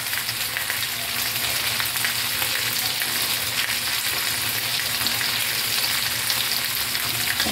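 Garlic frying in a pan for chicken adobo, a steady dense sizzle and crackle that holds evenly throughout with no talk, close and moderately loud.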